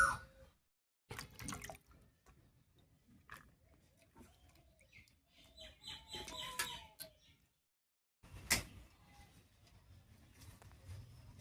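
Chopped drumstick (sajne data) pieces are washed in water, with faint intermittent splashing and dripping separated by short pauses.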